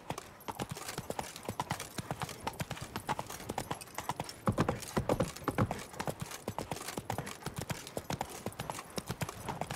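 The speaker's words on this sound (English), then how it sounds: "Run, Roach." Horse hooves gallop in The Witcher 3, a fast, steady clip-clop rhythm of a game horse running at full pace, loud and close throughout with no speech over it.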